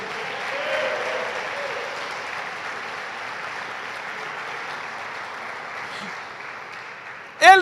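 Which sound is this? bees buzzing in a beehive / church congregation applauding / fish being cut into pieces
church congregation applauding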